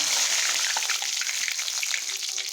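Whole cumin seeds and bay leaf frying in hot oil give a steady, close crackling sizzle with dense bursts of spitting, continuous and alone without talk, while rain falls outside.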